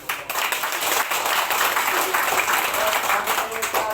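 Crowd at a barangay assembly in Agno, Tayug, Pangasinan breaks into loud, sustained applause, dense clapping that fills the whole stretch with a brief dip at the start.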